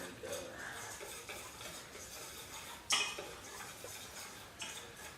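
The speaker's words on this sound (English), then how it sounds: "Our salt, get our whisk. And then just kind of stir it all" A whisk stirs salt into flour in a mixing bowl for homemade pizza dough, giving a steady scraping swish with light clinks against the bowl and a sharper knock near the end.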